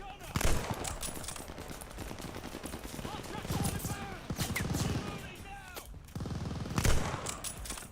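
A half-track's mounted machine gun fires in a Call of Duty Vanguard battle, with dense rapid bursts of gunfire at mid distance, repeating through the scene amid louder booms and battlefield noise.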